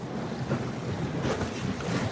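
Wind buffets the microphone by a beach dock as boats sit on the water, a continuous rumbling rush with gusts and breaking waves, no voices present.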